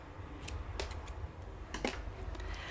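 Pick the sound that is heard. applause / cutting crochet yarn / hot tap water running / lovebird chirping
cutting crochet yarn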